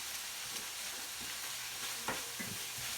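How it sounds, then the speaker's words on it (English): Garlic stirred in a hot pan for corn pasta, giving a steady close sizzle and fry with a few soft scraping stir strokes, no voices. "so we're gonna give that a stir"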